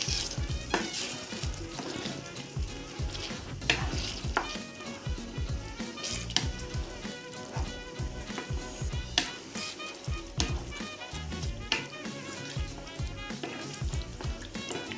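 Bolognese sauce bubbles and sizzles in a pan while old wooden spoons scrape and knock against the pot in frequent, irregular strokes, close up with no voices.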